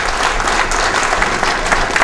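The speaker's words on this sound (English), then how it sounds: "do a round of applause." A crowd at a mayor's community night event claps loudly and steadily throughout, a dense wash of applause with no break.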